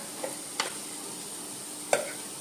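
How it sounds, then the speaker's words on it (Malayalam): Okra curry being stirred in a pan with ground roasted cumin, fenugreek and sambar powders, giving a few sparse scraping clicks over a faint steady sizzle, close by and with no talk. "ഇത്രയും ഇട്ടിട്ട് നമുക്ക് നല്ലോണം ഒന്ന് ഇളക്കാവേ."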